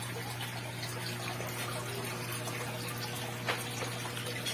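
Water runs steadily from a faucet during an aquarium water change, a continuous even gush with a low hum beneath, no talk.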